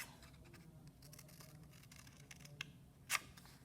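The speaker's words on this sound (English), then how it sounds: "this one you could cut like that and then go back in and cut out these little parts" Scissors snipping paper leaf shapes, faint close-up cutting with soft scratchy rustles and a couple of sharper crisp snips near the end, in an otherwise quiet room.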